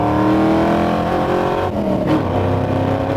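1967 Ford Mustang with a stroker engine accelerating up an expressway cloverleaf, a loud, close, rising engine roar with climbing harmonics and no talking.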